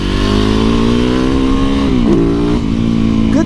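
A lightweight superbike revs hard as it leans through a tight corner in an industrial area, a loud, close engine note holding steady and then dipping briefly before climbing again.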